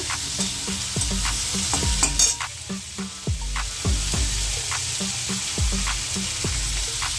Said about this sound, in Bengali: টমেটো টমেটোর সাথে আলুগুলো একটু কষিয়ে নেব